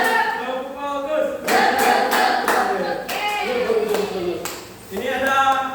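A group claps in a quick rhythmic pattern, sharp bursts of hand claps repeated several times, with children's voices chanting "tepuk fokus" along between them in an Indonesian madrasah classroom.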